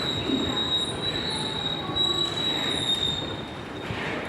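A train arrives at a station in Japan with a steady high-pitched squeal of wheels on rails, loud and close, over rumbling wheel noise.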